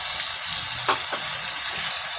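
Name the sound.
spices frying in pan for aloo gobhi sabzi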